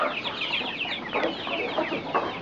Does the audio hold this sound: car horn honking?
no